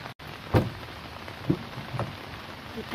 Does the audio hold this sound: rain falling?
yes